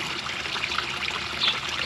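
A small backyard pond waterfall trickles continuously, a steady close splashing hiss of falling water with a slightly louder burst near the end, no voices.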